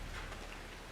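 Steady rain hissing and pattering during a run through the blood rain section of the horror game Outlast II, a dense, even wash of drops with no voices.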